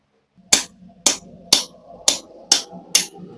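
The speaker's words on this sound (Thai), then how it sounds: "เดี๋ยวใช้ค้อนตอกนะครับ" Six sharp hammer blows knock a part out, evenly spaced about half a second apart, each a loud close metallic crack with a short ringing tail, no talk.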